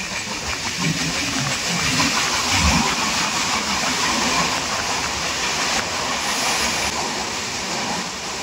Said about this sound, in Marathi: रेल्वेने ट्रॅव्हलिंग केलं.